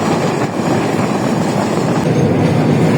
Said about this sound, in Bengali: চলন বিলের মাঝখান দিয়ে যে আমাদের ট্রেনটি যাতায়াত করছে